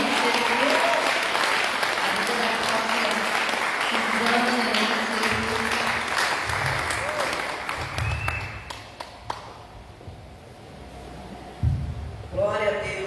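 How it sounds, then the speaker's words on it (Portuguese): A church congregation applauds in a dense, sustained wave of clapping that gradually thins and fades while voices and cheers mix in. Speech comes through near the end. "uma grande salva de palmas do Senhor"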